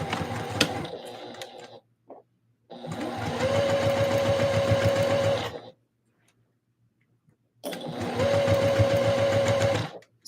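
A sewing machine fitted with a walking foot stitches in three bursts: a short run, then two longer, steady whirring runs of a few seconds each, separated by quiet pauses.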